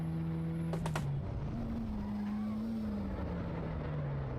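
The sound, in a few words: car engine shifted into second gear, video game Assetto Corsa Evo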